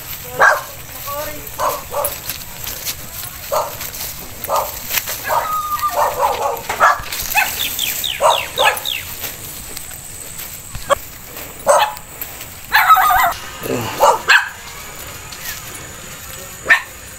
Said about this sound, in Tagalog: Galit sa yung aso.